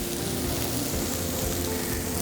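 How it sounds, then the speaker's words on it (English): Steady sizzling of venison cutlets frying in a hot pan, a continuous crackling hiss with no talking. "so we can start frying here shortly"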